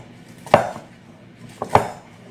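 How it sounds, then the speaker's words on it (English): A knife chops through Mediterranean salad ingredients such as kalamata olives on a board, two sharp, distinct cuts about a second apart over a quiet kitchen background. "give everything a good chop"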